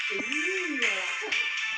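A melodic phone ringtone plays with bright repeating tones and wavering notes during a Roblox session, while a voice talks over it.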